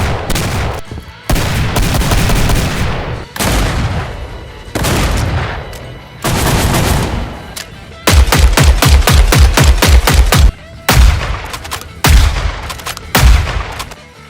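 Killing Floor 3 guns fire in loud bursts: single heavy shots and short volleys, then a rapid run of automatic fire, separated by brief silent gaps.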